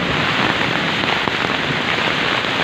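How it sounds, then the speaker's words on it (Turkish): Hail and heavy rain pound down in a village, making a dense, steady roar of patter with no breaks throughout. "dolu yağıyor"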